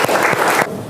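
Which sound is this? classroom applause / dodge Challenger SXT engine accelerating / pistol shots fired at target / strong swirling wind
classroom applause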